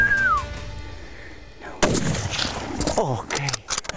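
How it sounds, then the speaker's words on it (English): During an ibex hunt in the central mountains of Spain, a single sharp rifle shot cracks out loudly and echoes across the terrain, and voices and rustling follow it. "Okay, Christian, very good shoot."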